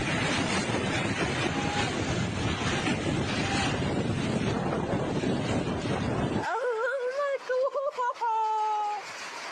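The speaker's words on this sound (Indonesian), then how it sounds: "Inilah detik-detik ketika angin kencang melanda Kabupaten Sidoarjo." Strong windstorm in Sidoarjo, Indonesia roars as loud, steady buffeting noise across the microphone, then cuts out abruptly and a person begins talking.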